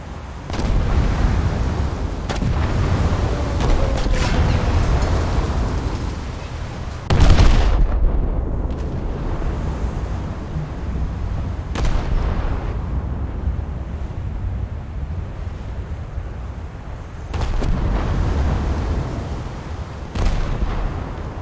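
Booming salvos from the Scharnhorst's 12-inch naval guns in a naval combat video game, heavy blasts rolling over steady wind-like sea rumble, with the loudest report near the middle and several duller thuds around it.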